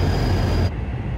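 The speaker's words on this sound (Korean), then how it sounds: "다시 무궁화 기차를 타고" Steady low rumble from inside a Korean Mugunghwa passenger train, with a thin high whine over it that cuts out partway through, leaving a quieter hum.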